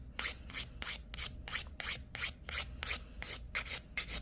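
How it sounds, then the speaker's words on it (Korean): Nail file rasping across a gel nail extension, a quick series of close, faint back-and-forth scraping strokes in an even rhythm, with no talking. "지금 갈고 있는데"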